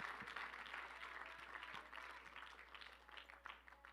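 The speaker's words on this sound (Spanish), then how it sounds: "Un aplauso al Señor por nuestro pastor" Church congregation clapping for the pastor during a Spanish-language service, a soft, distant wash of applause that stays fairly even throughout with a low steady hum underneath.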